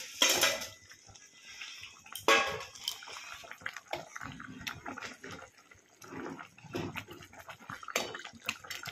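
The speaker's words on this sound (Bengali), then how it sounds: "এবার আমি মাছগুলো দিয়ে দেবো।" Pieces of catla fish go into a kadai (wok) with whisked curd, bringing sharp metallic clatters of utensil against the pan, wet splashes and intermittent clinks that rise and fade at close range, with no talking.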